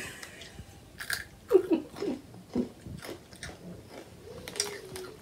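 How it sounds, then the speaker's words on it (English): Someone munches crunchy crisps, American snack-style, in a quiet room: a few soft, irregular bites and chews, close and fairly faint, with a short murmur near the end. "you're washing everything down with these crisps because you haven't stopped eating them."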